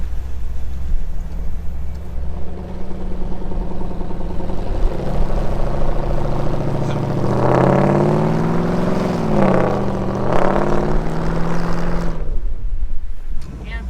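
A vehicle engine revs and strains while driving through snow, a steady mid-pitched drone that swells into several rising revs before cutting off near the end.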